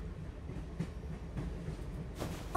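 A train running on rails in an animated film scene: a steady, fairly loud rumble of wheels with faint rhythmic clatter continuing throughout, with no voices.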